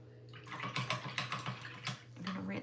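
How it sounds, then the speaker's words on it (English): A paint brush is swished and tapped in a water jar during mixed-media journal work, giving close, irregular clinks and splashy swirls in quick bursts over a low steady hum. "I'm gonna rinse my brush out."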